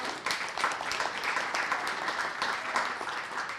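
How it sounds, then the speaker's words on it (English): Steady applause from an audience at a mental health town hall, dense clapping that fills the room evenly and continuously at moderate loudness without pause. "Give them a round of applause."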